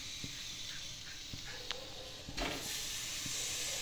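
Jaggery hisses and sizzles in a hot pan for a coconut filling, a steady close hiss with faint crackles and a brief louder burst midway.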